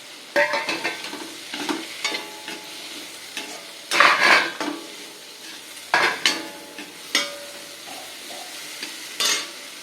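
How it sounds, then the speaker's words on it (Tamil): Onions frying in oil for a canteen-style brinjal curry, stirred with a spoon against the pan in repeated scraping bursts over a steady close sizzle, with occasional clinks of utensils and no talk. "இப்போ நான் இதுக்கு வெங்காயம் போடுறேன்"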